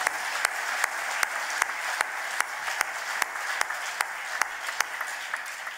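Concert audience applauding a kamanche player at a live North African and Maghrebi music show, a dense steady wash of clapping with a few sharper single claps standing out at regular intervals, no voices.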